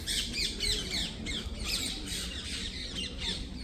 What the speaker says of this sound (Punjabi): ਤੋਤਿਆਂ ਦਾ ਬਾਲਾ ਜ਼ਿਆਦਾ ਆ ਉਹ ਪੰਛੀ ਬਹੁਤ ਹੈਗੇ